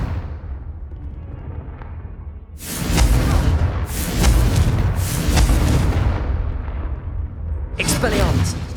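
Confringo fire spell explosions in Hogwarts Legacy, several loud booming blasts in quick succession with whooshing bursts, after a quieter start and with voices in the mix.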